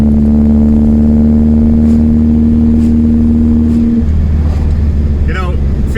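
A 1974 VW Beetle's air-cooled 54-horsepower engine drones steadily on a road test, a loud, close, continuous hum that shifts down in pitch partway through, with a voice talking briefly near the end.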